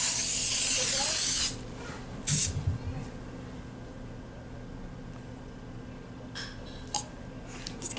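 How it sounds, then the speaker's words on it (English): An aerosol cooking-oil spray hisses onto a cupcake pan in one steady burst lasting about a second and a half, then a brief second spurt follows amid light handling noises. "So now we are going to spray."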